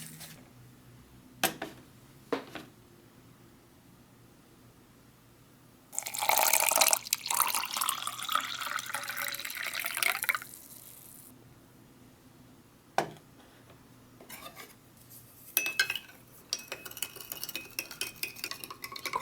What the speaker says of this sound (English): I'm going to go ahead and mix it up right in the cup.